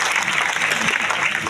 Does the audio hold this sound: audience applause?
yes